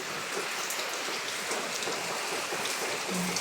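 Heavy rain pouring onto concrete during a shearline storm, a dense, steady hiss of countless drops hitting the hard surface, loud and unbroken, with no voices.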